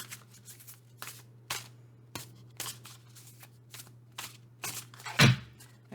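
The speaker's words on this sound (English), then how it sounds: "I'm just going to shuffle a different tarot deck" A tarot card deck is shuffled by hand in a quiet room, with repeated short papery riffles and snaps coming in irregular bursts, close and crisp with a low steady hum beneath.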